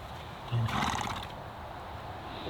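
A horse whinnies once, a short loud neigh near the start followed by a fading breathy tail, with steady outdoor background noise and no clear hoofbeats.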